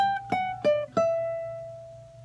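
Charango plays a short melody from a song an octave higher: four quick bright plucked notes, the last left ringing and fading, close and solo.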